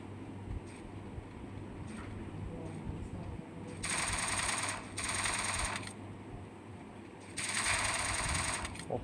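Rapid automatic gunfire in the mobile shooter Free Fire comes in three loud bursts, two back to back and a longer one at the end, over a quieter game background hum.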